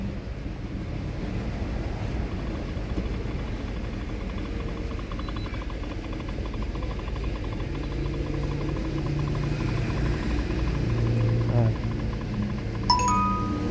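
A Mitsubishi Mirage engine with a cylinder 1 misfire runs with a continuous low, uneven rumble, fairly faint and steady throughout, with light wind noise and no talking.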